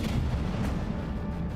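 Battleship cannons in the naval combat game From the Depths fire in a dense, continuous barrage, with heavy booming rumbles overlapping into one loud, unbroken roar.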